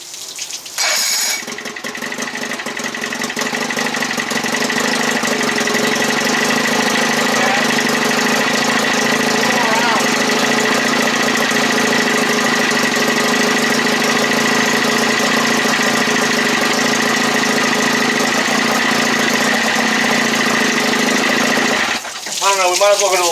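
Old outboard motor, an 85 Dino 30 hp with a new water pump, runs steadily at a loud, even idle with a constant drone for about twenty seconds, then cuts off abruptly near the end, with voices faintly over it.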